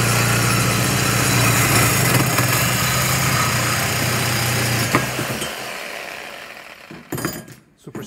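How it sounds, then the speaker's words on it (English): A circular saw fitted with a metal-cutting blade whines steadily as it cuts metal conduit, loud and close, then winds down and stops with a few clanks near the end. "I just got a skill saw there. And metal blade in there."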